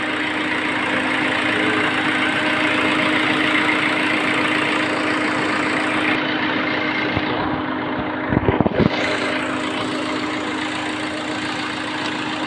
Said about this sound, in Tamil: இது குவார்டர் ஜெட் இன்ஜின்.